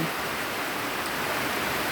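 Heavy rain pours down during a storm in Sisaket, a dense, loud, unbroken hiss of falling water filling the scene with no other sounds.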